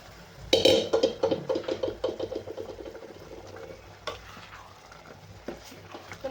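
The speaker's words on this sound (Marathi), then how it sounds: "आपण आता हे शिजवलेलं आपल्या भाज्याचं मिश्रण टाकायचं सगळं" A cooked vegetable mixture for traditional khengat tipped into a pan of sautéed spices with red chilli, giving a sudden loud sizzle and clatter that settles into steady frying and stirring scrapes, close up with no talk.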